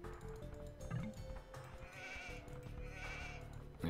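Sheep bleat in the Age of Empires II video game, a quiet in-game cue set against a dense background of game sounds and music, lasting a few seconds.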